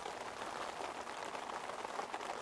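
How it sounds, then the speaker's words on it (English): Heavy rain drums steadily on a FORCEATT two-person dome tent, a dense continuous patter close overhead with no pauses or other sounds. "So with the rain that's been this morning, it was fairly light to start with, heavy through the night, light this morning, but it's heavy again now."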